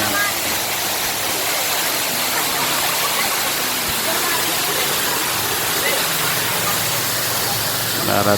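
Parasapas Falls in Pinsal pours in a loud, steady roar of falling water that fills the whole stretch without a break, broad and close at hand.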